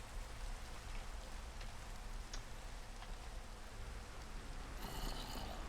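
Steady rain in Minecraft, a dense even hiss of falling drops that stays constant throughout, with a few faint brief ticks and a slightly brighter burst near the end.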